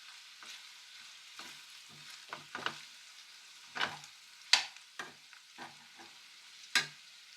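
Aloo bhujia potatoes being stirred in a hot pan with chilli powder, giving soft intermittent scraping strokes and quiet sizzling, close and fairly faint, with irregular spoon-against-pan accents and no talking.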